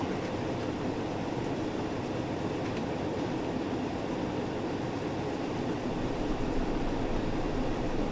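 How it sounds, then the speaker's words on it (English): A Class 170 diesel multiple unit in Train Sim World 4 on the Fife Circle Line gives a steady, dense rumble that continues without a break, close and fairly loud, with no voices. "A 170, a nice diesel."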